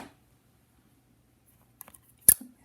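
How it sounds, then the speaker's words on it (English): A single sharp snip of scissors cutting a yarn tail after near silence, preceded by a few faint clicks and rustles up close. "You can just chain 1 and cut the tail off"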